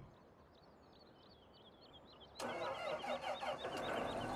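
A John Deere 8530 tractor in Farming Simulator 17 cranks and fires up abruptly, its engine roaring into a loud, steady run after quiet birdsong, with no talk over it.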